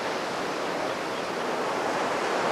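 Strong wind roars steadily along an ocean shoreline where choppy surf breaks, a dense, constant broadband rush with no gaps or distinct wave hits, close and loud throughout.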